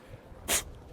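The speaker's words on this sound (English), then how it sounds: "what do you gotta do when you need to blow your nose on camera" A single short, forceful nasal blast as a person clears their nose without a tissue, a farmer blow, while riding a Onewheel on a bumpy enduro course, close to the mic with quiet surroundings.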